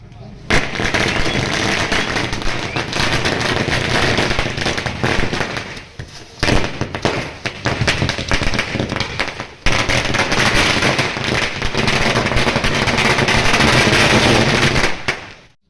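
Firecrackers burst in rapid, crackling volleys in front of a village panchayat office, loud and nearly continuous, with short pauses between strings of pops and voices faintly underneath.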